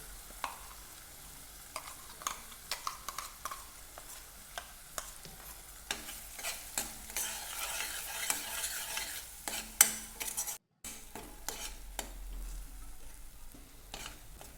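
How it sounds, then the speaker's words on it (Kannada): A spoon scrapes and stirs ground masala with turmeric frying in a pan, a soft continuous sizzle under repeated stirring clicks and scrapes, close and fairly quiet, with no talking. "ಮಸಾಲೆನ ಬಾಳ್ಗೆಗೆ ಹಾಕಬೇಕು."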